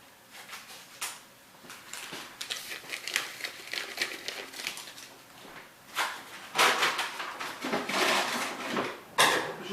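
Small vanilla sugar sachets torn open and emptied over flour, with repeated papery crinkling and rustling bursts, close and moderately loud, no talking.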